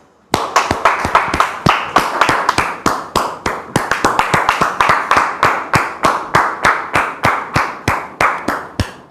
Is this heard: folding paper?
no